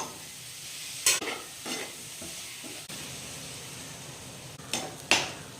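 Capsicum, onion, tomato and masala sautéing in a pan for veg biryani, a low steady sizzle under a few sharp stirring scrapes and spoon clinks against the pan, close and alone with no talk.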